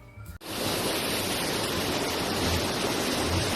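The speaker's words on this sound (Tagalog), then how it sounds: "Isang malaking ilog pala to, grabe." A large river rushes steadily as a broad, dense wash of flowing water that starts abruptly after a brief moment of quiet and continues evenly at moderate loudness.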